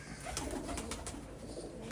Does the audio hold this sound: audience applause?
no